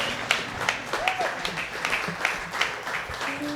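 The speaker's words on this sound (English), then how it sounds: "Let's get another round of applause" Applause from an audience at a folk festival workshop stage, fairly faint and scattered with a few individual claps, while a voice speaks over it.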